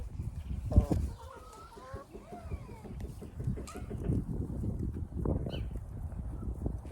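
Chickens cluck and chatter nearby in a steady, busy murmur, with one sharper squawk early on; no clear speech.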